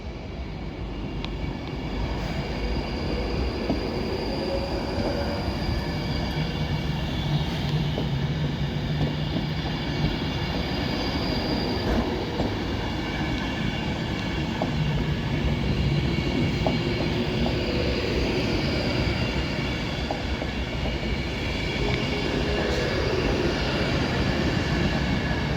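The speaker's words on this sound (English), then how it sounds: "And now that departs off to Glasgow Central." A Class 390 Avanti West Coast electric train pulls out of Oxenholme station on the West Coast Main Line, a steady loud rumble and roar of traction and wheels that holds throughout with no pauses.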